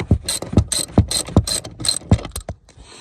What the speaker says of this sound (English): get your ratchet, go at the front of the seat, and take off this.